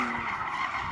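Tires of a BMW M2 CS skid during hooligan driving at a drag race, a steady, loud squeal sustained through the whole short moment with no voices over it.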